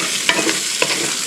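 Potatoes frying in a pan give a close, bright sizzle, with a couple of quick scrapes as they are stirred over a brief stretch.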